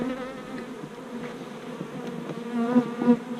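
Honey bees drone in a dense, continuous buzz at an open hive colony, the hum close and steady with a few louder individual bees passing near the end.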